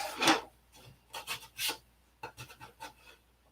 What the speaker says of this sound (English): we're going to get some sandpaper and sand on these hardened spots